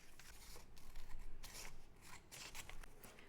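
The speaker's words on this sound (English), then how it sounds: "I'm going to trim the edges off to get rid of these" Scissors snip repeatedly through paper, trimming the edges off a sketchbook page used to wrap a box for a junk journal, a series of close, crisp cuts with soft paper rustling between them and no talk.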